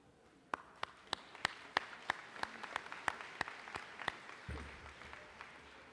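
Scattered claps from an audience at a school safety graduation ceremony following an NYPD Band performance, a dozen sharp, fairly close claps in uneven rhythm that thin out and stop.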